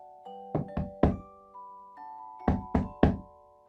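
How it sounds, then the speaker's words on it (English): A school drum is struck in two quick groups of three loud, near hits, with soft steady tones sounding underneath between the beats. "It's the sound of the school drum."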